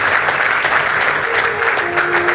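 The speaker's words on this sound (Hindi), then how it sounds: "एक बार इनके लिए तालियां जरूर बजिए।" An audience at a Shyam bhajan evening in Mahisagar claps together, loud dense applause from a large crowd filling the whole moment without pause.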